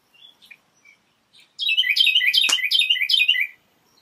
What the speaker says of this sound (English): This bird wanna be in the video.